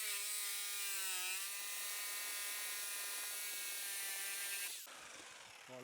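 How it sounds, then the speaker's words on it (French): A power jigsaw buzzes loudly through pallet wood with a steady high-pitched whine that shifts slightly in pitch, then stops abruptly near the end. "donc avec la scie sauteuse"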